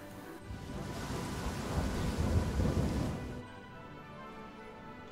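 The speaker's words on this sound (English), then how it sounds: "It's raining in Czechoslovakia." Rain and thunder weather in the strategy game Hearts of Iron IV: a low rumbling thunder roll over steady rain that swells and then cuts off, leaving soft rain, with no talk.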